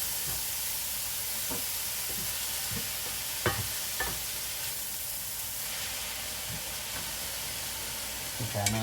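Vegetables for a bolognese sizzle steadily in a frying pan, a constant hiss with occasional sharper crackles and stirring clicks.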